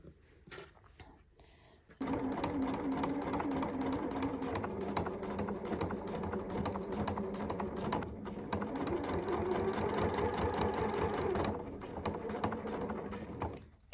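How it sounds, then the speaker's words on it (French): A sewing machine runs continuously, stitching a straight seam along a trouser fly, its fast steady needle chatter loud and close for about twelve seconds after a brief quieter start, with no talking. "on vient coudre au point droit toute la ligne droite d'ici à là"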